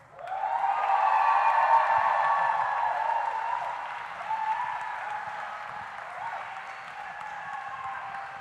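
Graduates at a graduation ceremony receive a sustained round of applause from the audience, swelling quickly, peaking loud, then easing off gradually over several seconds.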